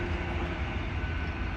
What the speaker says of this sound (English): There it was. Christmas train.